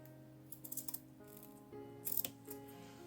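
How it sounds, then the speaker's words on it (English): Scissors trimming excess fabric from a punch needle project, a few soft close snips and rustles over a quiet background hum. "I want to trim away"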